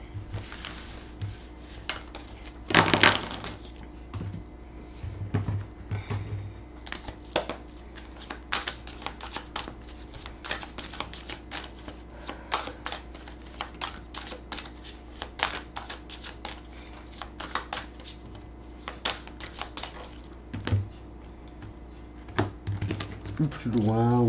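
Tarot cards are shuffled for a love reading, producing soft clicking and riffling taps, some in dense bursts, spread irregularly throughout, fairly quiet and close.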